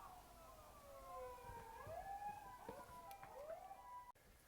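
A distant emergency siren wails with overlapping rising and falling tones, faint and somewhat muffled, heard alone over a low background rumble.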